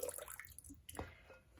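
Water being poured onto houseplants, bottom watering through pebbles in a tray, giving soft close splashing and trickling with a brief louder splash near the end.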